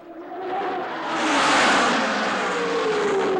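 Race car engine roaring past for a film soundtrack effect, a sustained loud rush that swells and fades with a pitch sweep, no voices.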